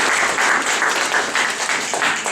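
An audience at an evening talk on Ayurvedic medicine in Sopron applauds steadily, a dense, continuous wash of many hands clapping with no voices on top.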